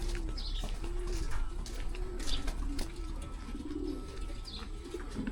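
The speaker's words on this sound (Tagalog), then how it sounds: "Check natin yung mga kalapate. Kung dito na lahat sila." Pigeons cooing in a flock, repeated low throaty coos rising and falling close by over a noisy background, with a few faint chirps and brief rustles.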